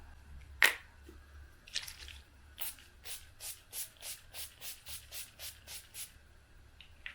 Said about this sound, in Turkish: NYX'in bu mat spreyini sıkacağım